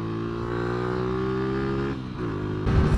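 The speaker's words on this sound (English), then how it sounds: "I am revving the living daylights out of it" A Lexmoto ZSX-F motorcycle engine revs hard at a high, sustained pitch, holding steady before dipping and surging again, loud and close.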